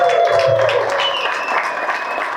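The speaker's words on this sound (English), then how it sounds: "Can we clap it up for the takers in the audience, please?" An audience at a brokerage grand opening applauds, a steady wash of clapping that holds at even loudness throughout with no voices over it.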